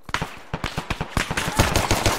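Rapid, rhythmic automatic gunfire in ARMA: a close, steady burst of sharp, evenly spaced shots that runs for about two seconds.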